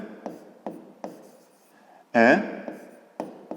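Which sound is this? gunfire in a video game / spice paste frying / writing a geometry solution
writing a geometry solution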